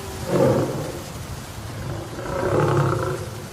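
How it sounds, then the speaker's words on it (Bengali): A tiger roaring as a sound effect in a Bengali ghost audio story: two deep, rough roars, one near the start and a longer one toward the end, with a low rumble between them. "আরেকবার শুনুন বাঘের গর্জন"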